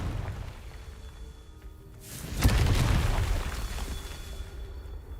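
Confringo spell in Hogwarts Legacy on PS5 bursting into a single deep, booming explosion after a brief rising whoosh, then a long rumbling decay, loud and close.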